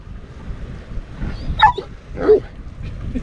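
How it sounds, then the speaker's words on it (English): A dog aboard a sea-fishing boat gives a couple of short, soft, pitiful yips and whimpers over a low background rumble. "Oh, such a pitiful bark, isn't it, buddy?"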